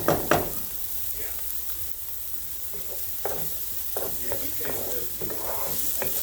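Food sautéing in a hot skillet, sizzling steadily with intermittent scrapes and stirring knocks, close and moderately loud.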